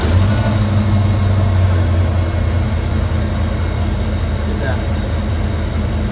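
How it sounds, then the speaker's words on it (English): A Ford Mustang 5.0 V8 idles steadily after its first startup, a continuous low rumble with a brief rev early on, while someone talks over it. "The Mustang is currently running up."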